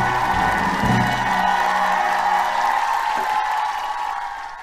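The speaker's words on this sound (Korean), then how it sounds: "박수 박수 박수 박수 박수 빵빠레를 울려라." A church congregation cheers and claps together at a worship prayer meeting, a loud dense crowd roar with shouts that holds steady and then gradually fades toward the end.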